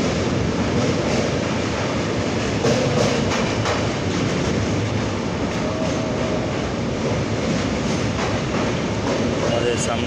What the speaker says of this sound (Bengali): এখন গাড়ি কাশীতে ঢুকছে।